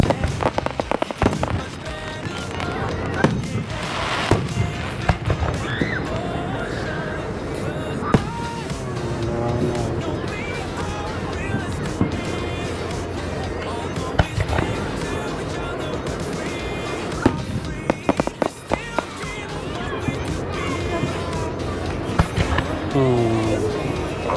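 Fourth of July fireworks bursting, with repeated sharp bangs and crackles scattered through the whole stretch, some near and loud, alongside a steady noisy background and occasional voices.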